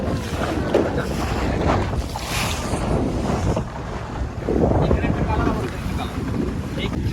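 A boat pushes through choppy sea off Yanbu, Saudi Arabia, with heavy wind buffeting the microphone and water slapping and rushing alongside, loud and continuous, with faint voices in the background.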